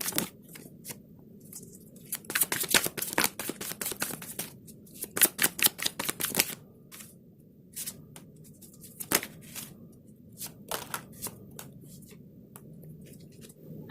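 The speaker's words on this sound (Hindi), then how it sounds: "पहले मैं कार्ड्स को शफल करूँगी।" Tarot cards being shuffled by hand in quiet surroundings: bursts of riffling and papery flicks with short pauses between them, close and moderately loud, with no talking.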